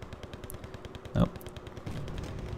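Machine-gun fire in the war strategy game Wargame: Red Dragon, with a Browning gun firing at a Mi-25 helicopter. It comes as rapid faint bursts with one louder thump midway, and the fire grows denser toward the end.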